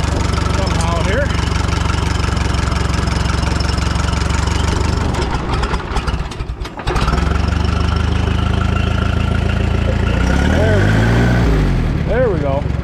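Engine running with a stuck throttle, a loud steady drone that holds high revs, dips briefly near the middle, then surges again, with someone talking over it.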